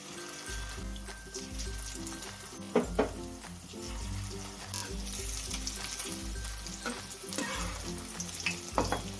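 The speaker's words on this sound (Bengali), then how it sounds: "এগুলো এবার লাল লাল করে ভেজে নেব" Batter-coated egg pieces frying in oil in a wok, a continuous bubbling sizzle with occasional louder spits and pops, while a low tonal hum runs underneath and no one speaks.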